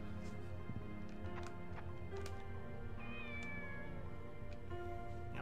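A cat meows in the video game Shenmue, one drawn-out mewing cry in the middle, over a steady bed of game background sound and light percussive ambience.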